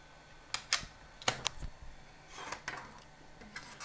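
Network card being pulled from the slot of a Panasonic CF-61 laptop: a few sharp plastic clicks and clacks near 0.7 s and 1.3–1.5 s, then softer scraping, close and fairly quiet with no talk.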